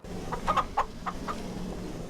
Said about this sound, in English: we have little baby chicks in here, as well as some ducks